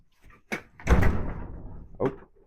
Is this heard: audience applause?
no